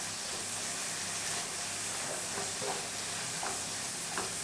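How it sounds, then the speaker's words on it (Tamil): Amaranth greens with crushed, skin-on garlic sautéing in a pan, giving a steady soft sizzle with a few scattered stirring clicks, fairly quiet and close, with no voices. "இப்போ எல்லாத்தையும் சேர்த்துட்டு நல்லா வதக்கிடலாம்."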